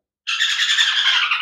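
Pet parrots at a bird market let out a single harsh, raspy squawk that starts abruptly after a brief silence and runs on loudly and close until the clip ends.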